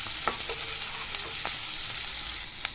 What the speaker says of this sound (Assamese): পিঁয়াজখিনিৰ ৰংটো সলনি নোহোৱালৈকে কিছু সময় এনেকৈ লৰাই ভাজি থাকিম।